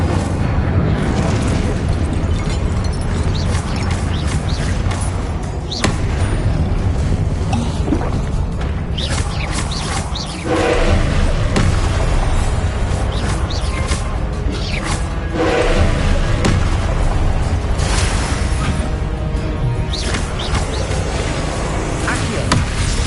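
Repeated fiery blasts from the Incendio fire spell in the video game Hogwarts Legacy, loud and continuous bursts with whooshing roars filling the whole stretch, a few brief dips between casts.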